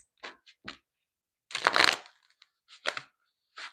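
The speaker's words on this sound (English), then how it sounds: "Give me one more shuffle for Aquarius." Tarot cards are shuffled in several short, separate bursts of riffling and flicking, close and crisp, with quiet gaps between them and no talking.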